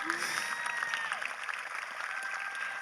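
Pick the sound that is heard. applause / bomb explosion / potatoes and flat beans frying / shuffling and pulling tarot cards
applause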